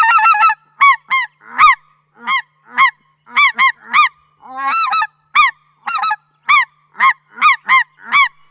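A goose call blown in rapid, rhythmic bursts, loud and close, switching between higher yelping honks and lower cackling notes, imitating specklebelly and snow geese.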